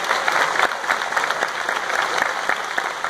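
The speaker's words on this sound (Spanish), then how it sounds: "un aplauso para todo el equipo inmenso que está detrás de cámaras" Audience applause for the crew of the film Magallanes at a cast-and-crew event: a dense, steady wash of many hands clapping close by for about three seconds, with no voices over it.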